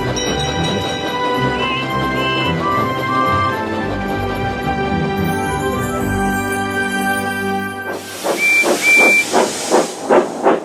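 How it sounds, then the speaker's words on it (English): Cartoon steam engines blowing their whistles together in celebration, several sustained whistle tones over music, then loud rhythmic bursts of steam hissing and chuffing near the end. "They all blew his whistle to celebrate Christmas together."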